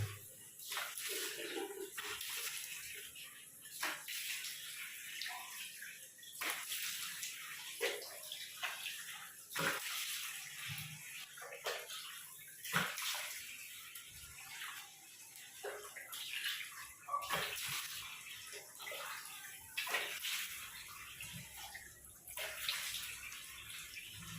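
Plain tap water splashes and runs as a face is rinsed after using a cleansing oil, with irregular close splashes and drips over a steady watery wash throughout.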